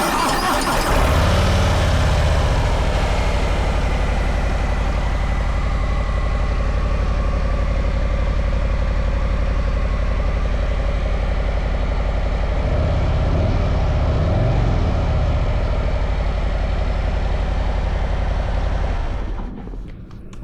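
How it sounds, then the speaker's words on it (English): A Harley-Davidson Lowrider S on its stock exhaust idles close by, a loud, continuous deep rumble with a steady throb that holds level for about twenty seconds before cutting off. "we're gonna get a little pre-slip-on exhaust noise"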